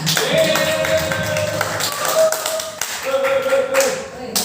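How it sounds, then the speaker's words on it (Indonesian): Audience clapping at a school gathering on positive discipline, quick overlapping hand claps running throughout while a voice and background tones carry on underneath. "Beri tepuk tangan yang meriah."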